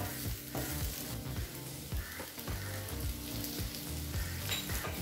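Sliced bitter gourd sizzles steadily in oil in a pan, a dense, continuous crackle up close with occasional stirring scrapes and no voices.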